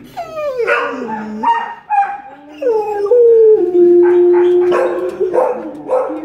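A dog howls in long, wavering tones broken by a few sharp barks and yips, close and loud, without any talking.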